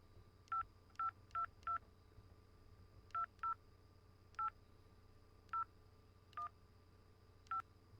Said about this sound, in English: I gotta make a phone call because I have a little bit of a problem